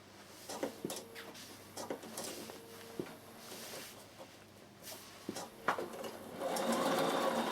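A Bernina sewing machine stitches a seam on a stiff peak cap, its motor whirring in short starts and stops with scattered clicks and fabric handling, building to a steadier run at the end.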